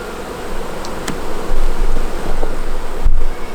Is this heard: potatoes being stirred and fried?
no